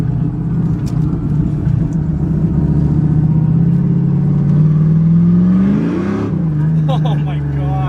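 A Volvo car's engine idles with a deep, loud rumble, then revs upward in a rising sweep before dropping back to idle, with voices briefly heard near the end.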